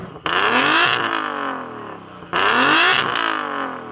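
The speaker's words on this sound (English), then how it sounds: "Go on, Yanni, rev up your car." Two loud car engine revs, each snapping up sharply then holding high and slowly falling away, close by at a drag race where a Koenigsegg Agera RS, a Porsche 911 Turbo S and a 950-horsepower tuned Audi TT RS line up.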